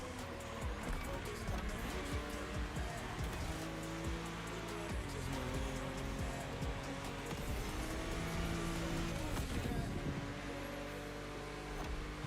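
Racing game engine roar and tire squeal from an old-school Porsche race car in The Crew Motorfest, a dense, steady wash of engine and tire noise filling the whole stretch with no clear pauses.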